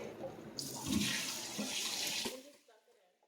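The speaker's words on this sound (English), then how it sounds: "make sure you have cold water running" Cold tap water gushes into a metal strainer, a steady splashing rush that starts abruptly and cuts off after about two seconds.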